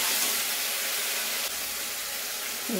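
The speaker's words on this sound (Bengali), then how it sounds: "2-3 মিনিট ফুটাবো" Potatoes boil in a pot of water for an egg and potato curry, giving a steady, close, bright hiss and bubbling throughout with no voices.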